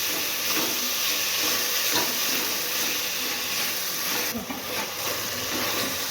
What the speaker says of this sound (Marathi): टॉमॅटो टाकून घ्यायचं आहे आणि शिमला मिर्च टाकून घेऊ आणि व्यवस्थित हलवून घेऊ